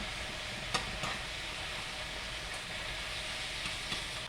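Ground beef sizzling in a hot pan for Philly cheesesteaks while two spatulas chop and scrape it apart, a steady soft fry with a few sharp scraping clicks, fairly quiet.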